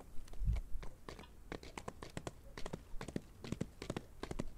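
Horse hooves clopping over stones in the Western video game Outlaws, a steady run of sharp, close taps in an uneven rhythm, with no talk over them.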